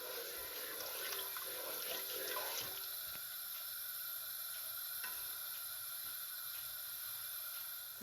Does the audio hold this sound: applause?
no